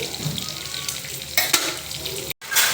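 Egg mixture frying in a pan for egg biryani, giving a loud, close crackling sizzle with a couple of sharper stirring bursts and a brief cut-out near the end, with no talking.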